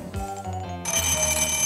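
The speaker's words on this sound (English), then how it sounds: "That's the top secret gadget phone." The top secret gadget phone in the Inspector Gadget cartoon rings with a loud, continuous electronic trill. The tone brightens partway through, and no one speaks.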